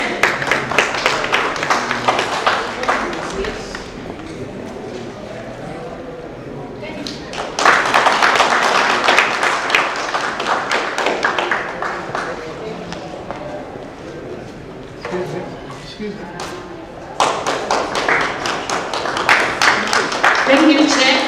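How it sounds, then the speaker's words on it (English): Audience clapping at a polytechnic strategic plan event during a gift presentation, sustained hand claps rising in bursts around 7.5 and 17 seconds amid room noise and some talk. "As they're being given, you can clap your hands."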